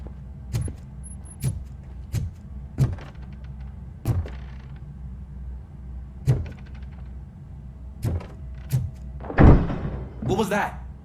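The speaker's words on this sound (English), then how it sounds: "Now let me get that door open for you." A door is worked open in the video game RoboCop: Rogue City, with a series of heavy, close thunks and clanks spaced a second or two apart. The sequence ends in a brief burst of rough noise.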